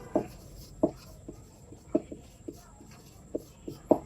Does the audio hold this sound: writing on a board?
yes